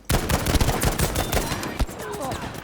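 Rapid, loud bursts of gunfire from the World War II shooter Battlefield V crack close by in dense overlapping volleys, with a voice briefly mixed in.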